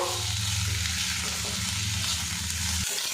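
Chopped tomato stirred into ginger and green chili paste in a hot pan, giving a steady, loud oil sizzle with a low cooking hum that cuts off abruptly near the end.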